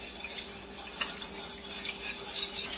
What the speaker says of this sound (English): So now you just want to whisk this together until the cheese melts